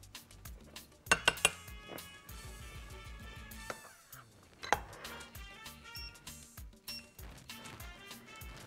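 A metal spoon clinks and scrapes against a kitchen pot while scooping ghee, producing several sharp clanks and lighter taps over a quiet background, close up and with no speech.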